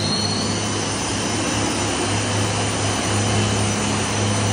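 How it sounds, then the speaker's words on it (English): High pressure pumps at a water treatment plant run up to full speed, giving a loud, steady broadband roar with a constant low hum that holds throughout, with no talk. "So there the high pressure pumps are starting."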